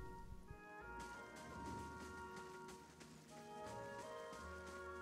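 Soft, steady rainfall hisses across a broad band in the fantasy role-playing game Pillars of Eternity, faint and continuous beneath a sustained musical score with held tones.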